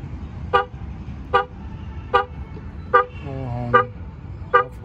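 Six short car horn beeps from a Mahindra Scorpio N Z6, triggered remotely by a connected-car feature, at an even pace, each a brief bright toot over a steady low background rumble.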